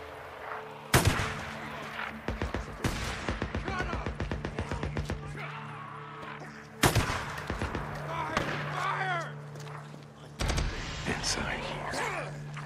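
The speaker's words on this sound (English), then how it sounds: "As they open fire again." Gunfire in the video game Days Gone, sharp loud shots and rapid bursts of automatic fire over roughly twelve seconds, with someone talking quietly in between and under the shooting.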